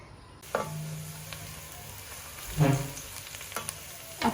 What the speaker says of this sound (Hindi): और अब मैं इसमें ये लहसुन और प्याज डाल दूंगी। और इसको 1 से 2 मिनट के लिए हम सौटे करेंगे।